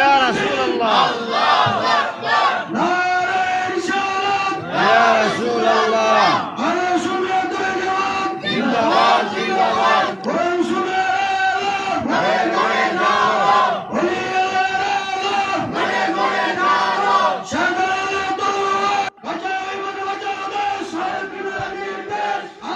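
A large crowd at a Bengali Islamic sermon gathering shouts rhythmic chanted responses to the Nara-e-Takbir call, loud and forceful bursts repeating in a steady call-and-response pattern with short gaps between.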